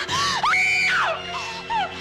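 A woman in a 1965 Western drama screams loudly and close, a long shrill wavering cry that rises, holds and then falls, followed by a shorter second wail.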